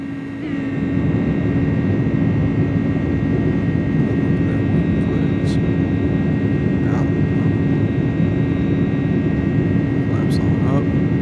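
Simulated jet engines of an Airbus A300 freighter on a FedEx flight from Memphis spool up to takeoff thrust, a steady loud roar with a sustained whine building in, and brief cockpit sounds over it.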